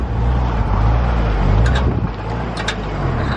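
Honda CR-V engine revving hard while pulling a Scion FR-S out of a muddy ditch in cold weather, a loud, close, sustained drone that rises and falls slightly.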